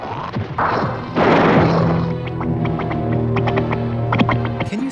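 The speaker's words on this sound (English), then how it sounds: "Oh, listen to that sloppy, bubbling sound." Splattering, wet crashing effects from a gory 1950s monster film, with loud broadband smashes followed by sustained hum and a run of sharp clicks and squelches, heard close and without speech.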